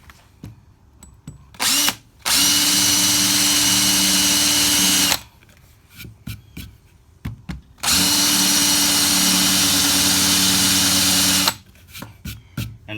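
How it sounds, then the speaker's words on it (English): A countersink drill bit bores into wood framing inside a school bus conversion, two long steady bursts of loud, close power-drill whine separated by short starts and pauses, with no talking. "it's small enough that I can just use my counter sink drill bit"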